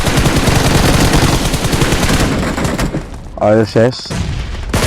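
Dense, rapid gunfire from a PUBG Mobile firefight rattles loudly and continuously through the first few seconds, then thins out as someone speaks briefly over the game audio.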